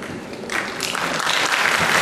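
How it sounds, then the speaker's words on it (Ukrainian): Applause swelling up from an audience at a creative evening of poetry and song, starting softer and growing fuller and louder after half a second, sustained to the end. "І на вам оплески"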